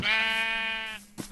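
A single Minecraft sheep bleats once in a drawn-out, wavering cry, clear and close, followed by a brief soft click.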